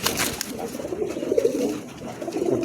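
Pigeon cooing from a pair of pigeons, an andalusian-type female and a mosaic-coloured male, a soft low repeated coo running through the clip over steady background noise.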